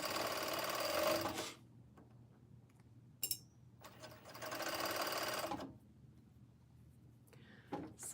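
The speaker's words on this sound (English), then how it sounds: "So let me sew this sleeve on." Sewing machine stitching a T-shirt sleeve in two close, steady bursts of rapid rhythmic whirring, separated by quiet pauses with small clicks and handling noises.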